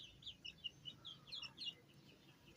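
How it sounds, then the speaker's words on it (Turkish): Baby chicks chirp in quick, high, thin peeps, a soft rapid series close by in a quiet room, ending with a small click. "Şöyle nasıl cik cik cik cik ötüyorlar."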